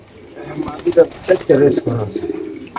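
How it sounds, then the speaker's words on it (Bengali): Large racing pigeons coo softly in short, repeated bursts, close by in a cage, with a voice talking over them. "খুব সুন্দর বড় সাইজের কবুতর"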